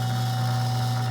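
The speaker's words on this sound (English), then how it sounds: "The housing is rattling a little bit." A vintage Mimar electric fan, run on high with its blades off, gives a steady close motor hum with a light, continuous rattle from its housing and no voices.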